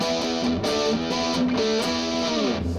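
Electric guitar pushed through a high-gain distortion pedal with heavy compression, playing a dense, sustained run of chords and notes that ring out continuously at steady loudness.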